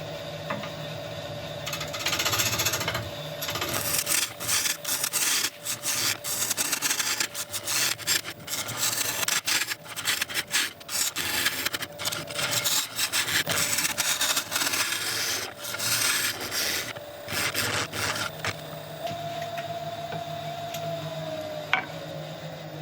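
Lathe chisel cutting into very heavy, dense wood on a wood lathe, heard up close as a continuous loud rasping scrape over the spinning workpiece's steady hum.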